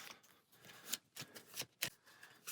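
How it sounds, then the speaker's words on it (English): Quiet, close riffling of a small deck of playing cards being shuffled for a board game, a few soft papery bursts and flutters in an irregular rhythm. "that's going to get shuffled in with 2 other cards"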